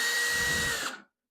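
Power drill backing a 1/4 inch screw out of a Maytag dryer cabinet during a heating element repair: one short, loud, close whir lasting about a second before it stops abruptly.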